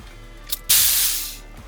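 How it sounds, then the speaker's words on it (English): Compressed air hissing out as a shop air line is bled off, a short puff followed by a loud, sustained burst of hiss that gradually fades over about a second. "First, bleed off the air."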